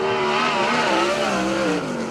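A USAC sprint car screams loudly past at Arizona Speedway during a qualifying lap, its engine note sliding in pitch as it passes close by, alone with no talk.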